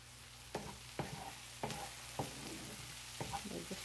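Chopped garlic and green chilli frying in a hot pan for restaurant-style chilli chicken: a steady close sizzle punctuated by several distinct stirring scrapes and knocks, with no voices.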